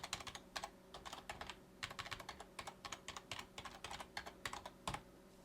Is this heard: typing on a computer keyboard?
yes